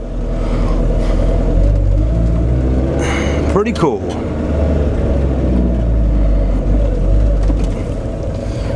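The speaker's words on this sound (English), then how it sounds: "So I'm gonna turn that down so we can actually hear the sounds of the car." A 1989 Alfa Romeo Graduate Spider is being driven, its engine giving a steady loud rumble from inside the car, with a brief swell in revs midway and a short remark from someone.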